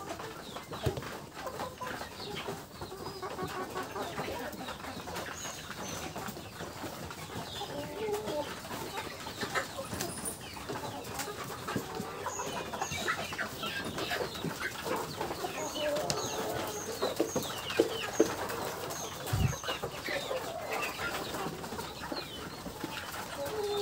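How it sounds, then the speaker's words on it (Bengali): Tiger-breed hens clucking softly while pecking at scattered paddy grain, a steady outdoor backdrop of low clucks and chirps with occasional wing flaps and no talking. "দেখেন আমার টাইগার মুরগিগুলো কিন্তু ধান খাইতেছে।"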